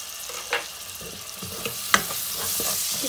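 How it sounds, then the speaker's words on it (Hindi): Masala with tomato frying in a pan, a low crackling sizzle punctuated by a few sharp utensil knocks and scrapes, close and moderately quiet. "इसको 1-2 मिनट के लिए भूनेंगे।"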